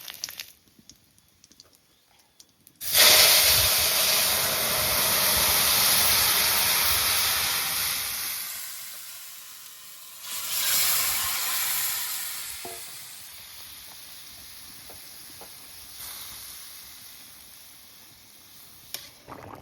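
A tempering of bay leaf, one dried chili and whole cumin hits hot oil with a sudden loud sizzle after a quiet start, then hisses steadily, surging again briefly midway before settling into a softer crackle.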